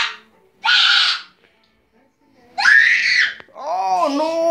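A child screams at home during family play in London: two shrill bursts separated by a pause, then a longer wavering wail, close and loud.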